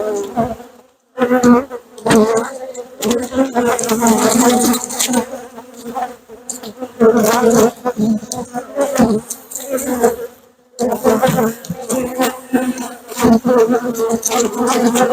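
Honey bees buzz loudly and continuously around an open hive during a swarm-to-hive transfer, a close, dense hum with brief dips and bursts as the insects move about.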